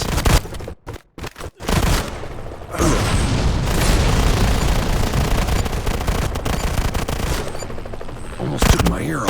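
Rapid gunfire and booming explosions from the Modern Combat 5 team battle mode, loud and dense for most of the stretch after a few sharp bursts at the start, with a voice briefly audible among the shots.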